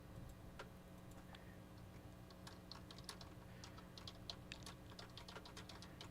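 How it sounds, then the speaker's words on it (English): Keyboard typing in a quiet room: light, irregular key clicks, faint and somewhat distant, over a low steady hum, with no speech. "Can you hear that typing?"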